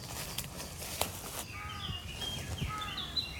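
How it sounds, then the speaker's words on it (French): Wild birdsong in a small uncultivated valley, with blackcap, crow and chaffinch present: faint rustling and a low call at first, then thin, high, bright chirps and warbling phrases, quiet and somewhat distant. "Fauvette à tête noire,"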